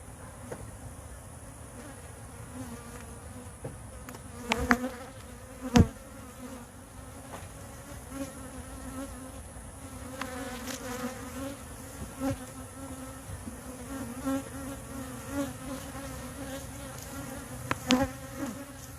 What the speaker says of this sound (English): there just doesn't seem to be that many bees